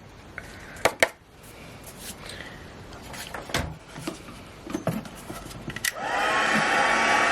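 A heat tool blows a steady hissing whoosh as it melts gold embossing powder on a card, switching on near the end after a few light handling clicks and taps.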